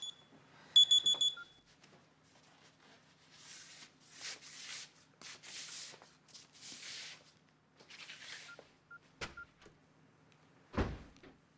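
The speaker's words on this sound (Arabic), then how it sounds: "ما تطفي المنبه الزفت ده او غير الرنة دي." An alarm clock rings with a sharp electronic beeping burst early on, followed by rustling and shuffling in a bedroom as someone stirs, with a couple of louder knocks and thumps toward the end.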